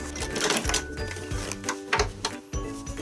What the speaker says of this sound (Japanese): ミシンで仮留めをしておきます。